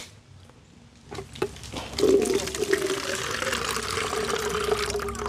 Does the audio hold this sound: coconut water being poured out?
yes